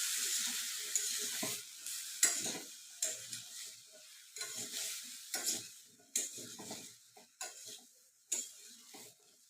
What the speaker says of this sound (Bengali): লাউগুলোকে একটু কষিয়ে নিয়ে